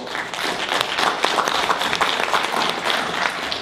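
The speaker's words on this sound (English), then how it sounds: "So let's give him a round of applause." A crowd at a Pan African martial arts conference gives a sustained burst of applause. Many hands clap densely and steadily at close range for the full few seconds.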